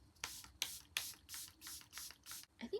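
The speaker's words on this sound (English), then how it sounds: "to set it in place, obviously Charlotte Tilbury Airbrush Flawless Setting Spray" A Charlotte Tilbury Airbrush Flawless Setting Spray bottle fires seven quick, soft misting pumps in a fairly even rhythm, close and quiet. A small rustle follows at the end.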